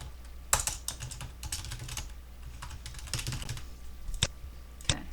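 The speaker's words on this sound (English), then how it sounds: "So I'm going to type that as my answer" Keys clatter on a computer keyboard in quick, irregular bursts of clicks, close and fairly quiet, ending with a couple of sharper key strikes, with no voices.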